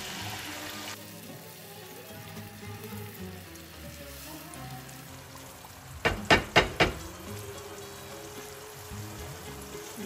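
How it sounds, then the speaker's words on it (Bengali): Water poured onto well-fried onions in a hot pan, setting off a short run of loud, crackling sizzle bursts over a quiet kitchen background. "আমার পেঁয়াজটা খুব ভালোভাবে ভাজা হয়ে গেছে এখন আমি একে দিয়ে দিচ্ছি পানি"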